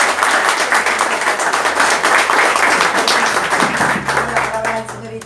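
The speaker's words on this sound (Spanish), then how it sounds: "les pido un enorme aplauso para Nelson" An audience breaks into sustained, dense applause at a book presentation in Casares, loud and steady before tapering off near the end.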